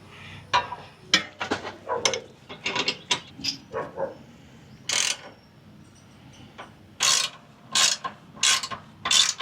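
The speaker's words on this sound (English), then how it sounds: "Now we're just taking and retorquing everything." Torque wrench retorquing nuts on a Jeep Gladiator during a 25,000-mile service: a string of sharp ratcheting clicks in quick bursts, some louder and longer, with short pauses between, close and clear with no talking.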